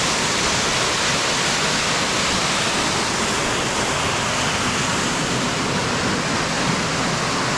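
Cachoeira do Periquito waterfall in Presidente Figueiredo, Amazonas, a loud steady roar of falling water filling the whole clip with no pauses, heard close up.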